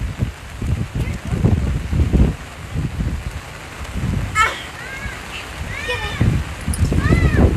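Rain falling outdoors in Texas after a summer-long drought, a soft steady hiss under frequent nearby talk, with children's voices and calls rising over it.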